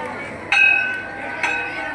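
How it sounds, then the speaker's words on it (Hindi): A school bell rings in two short bright metallic bursts about a second apart, each with a ringing tone that fades under a noisy room. "घंटी बजा दे।"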